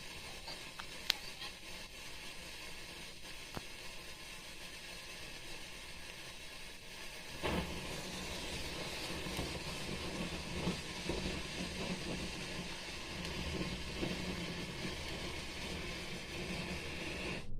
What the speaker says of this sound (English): Let's watch live from rocket launching station.